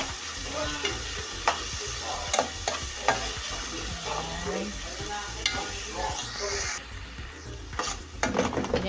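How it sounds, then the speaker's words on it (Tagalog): Mung bean sprouts sautéing in a pan with shrimp and seasonings, a steady sizzle broken by frequent clicking stirs of a utensil against the pan, with brief quiet speech in the background. "gisa lang natin hanggang maglabas yung kanyang juicy flavor"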